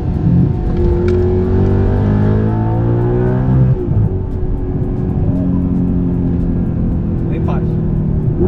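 An Audi R8 supercar engine drones and rises in pitch under acceleration during a road test drive, loud and continuous, with one gear change partway through and talk from inside the cabin.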